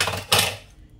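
A single short clink of a kitchen bowl being set aside, a bright dish knock in the middle, followed by quiet.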